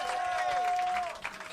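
A pub audience at the Queens Arms gives a short burst of applause for a musician, with clapping and crowd noise mixed under talk and a sustained tone before it tapers off.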